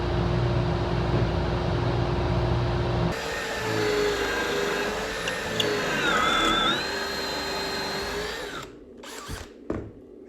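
A power drill bores into wood while building a mantel, a steady close whine running for several seconds with pitch shifts under load, then stopping, followed by a few brief knocks and handling clatter.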